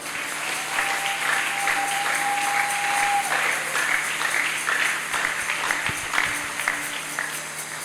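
A church congregation at a revival gathering claps and cheers in praise, a dense continuous applause filling the room, with a sustained tone briefly heard underneath.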